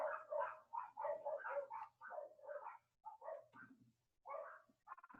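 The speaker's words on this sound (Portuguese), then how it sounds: "Os cachorros estão nervosíssimos, não sei com o quê, mas estão." Agitated dogs indoors bark in quick repeated bursts, with several loud, close barks in a row, brief pauses, then a few more yips and barks, and no speech.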